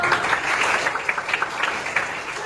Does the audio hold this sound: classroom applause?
yes